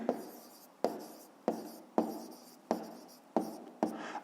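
Pen writing maths notes on paper for a fifth-grade exercise, heard as seven close, distinct strokes, each a sharp scratch fading out, in a steady rhythm with no talk.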